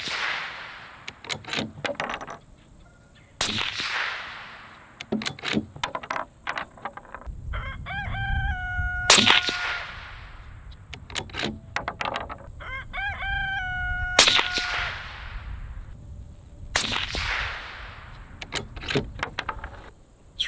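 Suppressed Howa 1500 rifle shots crack sharply several times at spaced intervals outdoors, while a rooster crows and chickens cluck nearby.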